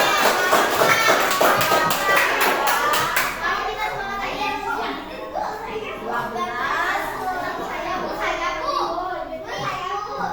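A group of children in an Indonesian classroom claps rapidly in unison for a few seconds, then chatters and talks excitedly in a lively room.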